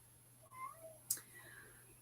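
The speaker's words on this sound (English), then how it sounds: "he's just gonna keep meowing" A house cat meows in a few short, faint calls early on, followed by a brief sharp click, over a steady low electrical hum.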